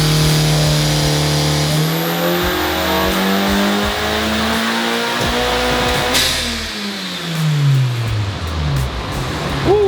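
A tuned 2024 Honda Civic Type R engine revs hard on a dyno, climbing steadily in pitch through the gears with a loud, continuous whine, then briefly dropping and rising again near the end.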